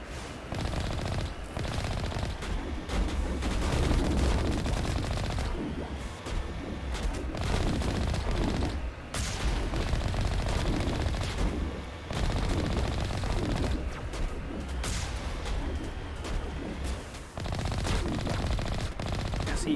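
Rapid bursts of automatic gunfire blast against turret towers in the Mass Effect video game, loud and sustained with brief pauses between volleys and no talk over them.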